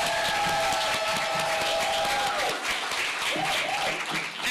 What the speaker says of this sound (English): let's give her another big, fat round of applause